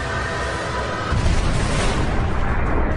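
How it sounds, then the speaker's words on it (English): A supernova explosion sound effect, a dense roaring rumble that swells suddenly about a second in into a louder, deep booming blast and keeps sustaining, loud and enveloping. "how the explosions could occur in a Type 1a supernova"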